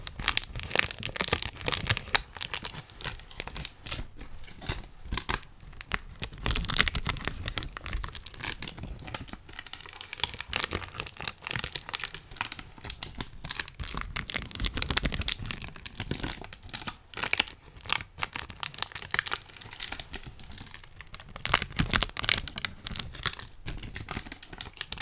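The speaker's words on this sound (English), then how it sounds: "now the crinkly sounds" Dense, close crinkling and crumpling of material fills the whole stretch, a continuous busy crackle with sharp irregular snaps and no talking, recorded up close on a Yeti microphone.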